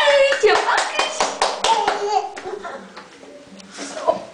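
A child and adults clap, a quick run of sharp hand claps that fades into a few scattered claps, with children and adults talking over it.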